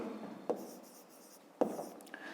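Pen or pencil writing numbers by hand on paper, a soft close scratching with two sharper taps, faint and without talk.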